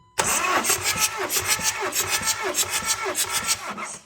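A 1.9 TDI diesel engine cranks over during a compression test, a loud close rhythmic churning of the starter with regular pulsing compression strokes for about four seconds, with voices in the background.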